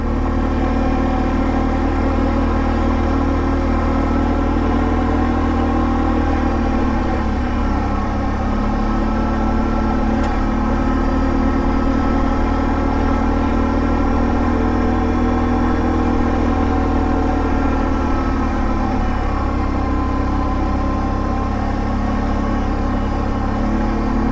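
An ATV engine climbs a mountain canyon road toward Capilla Peak, droning loud and close without a break and holding a steady mid-pitched roar with slight rises and dips in revs.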